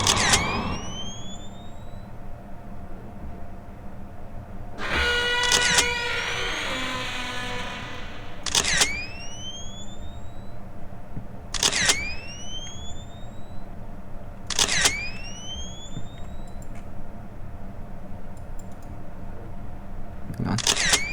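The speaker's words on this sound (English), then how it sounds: "Push the shutter." Camera shutter clicks ring out at regular intervals of about three seconds, each sharp snap followed by a rising electronic chirp, with a busier burst of mechanical clatter near the start over a low background hum.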